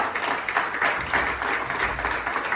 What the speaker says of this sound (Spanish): ¿Le pueden dar un aplauso a Jesucristo?